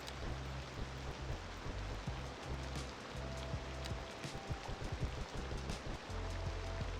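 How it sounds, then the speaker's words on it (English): Heavy rain falls in the city-building game Cities Skylines 2 as a dense, continuous hiss and patter, steady and fairly quiet, with no voices over it. "Goodness, it is raining like crazy."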